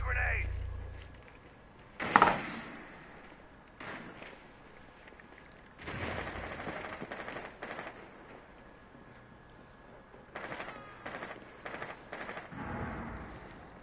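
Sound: gunfire from enemies shooting in a video game

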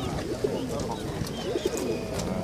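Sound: Ural monk pigeons cooing at a bird market

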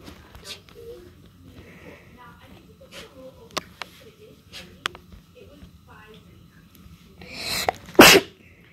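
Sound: person and dog sneezing

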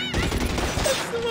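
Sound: automatic rifle gunfire in video game L.A. Noire

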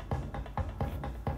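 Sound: bongo drum pattern from a stock Logic plugin

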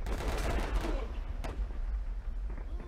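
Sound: machine gun fire in the Warfare 1917 video game

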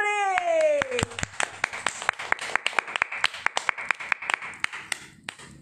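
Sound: applause welcoming a guest on stage

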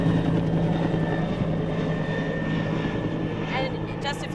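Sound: helicopter flying overhead at a wildfire

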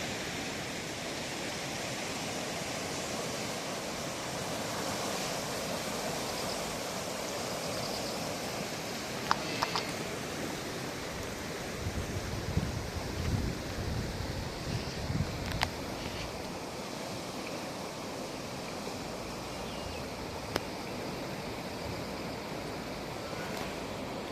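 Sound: rushing river water

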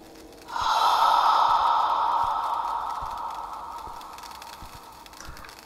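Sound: heavy breathing in a creepy video game

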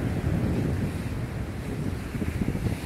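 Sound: ocean waves breaking on rocks

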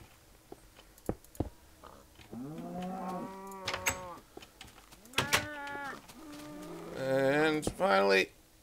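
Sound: cows mooing in the video game Minecraft

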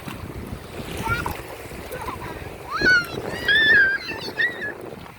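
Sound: sea waves at the beach

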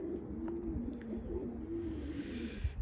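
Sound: pigeons cooing in a pigeon coop

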